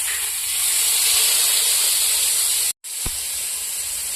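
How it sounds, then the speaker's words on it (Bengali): Tilapia fish sizzles on a hot tawa over lowered gas, a steady bright hiss that cuts out briefly and then resumes, with a faint tap just after. "তাওয়া গরম হয়ে গেছে, এবার গ্যাসটা একটু কমিয়ে দিই, দিয়ে মাছটা এর মধ্যে ছেড়ে দেবো।"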